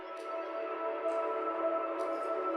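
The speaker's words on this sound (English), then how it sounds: "Also this atmosphere sample." An atmosphere sample in an FL Studio melodic dubstep remix plays alone as a soft, sustained ambient pad, quiet and steady, with faint airy swells recurring about once a second.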